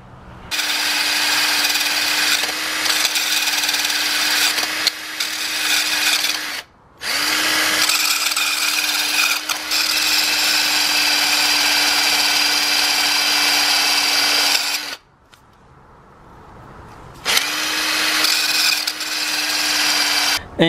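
A chain breaker tool pressing rivets off a Yamaha FZ6R motorcycle chain during a chain and sprocket swap: three long, loud, whining runs with a steady tone, separated by short pauses.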